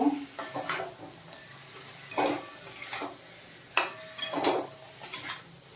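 A fried fish head sautéed in a pan: scraping, clinking spatula strokes come in separate bursts against the cookware over a soft, low sizzle, close and fairly quiet between strokes.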